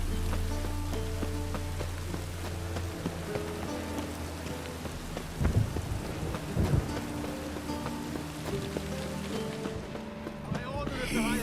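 Steady rain pours and low thunder rolls through a storm in The Witcher 3: Wild Hunt, with a couple of heavier rumbles midway, and in-game voices speak over the downpour.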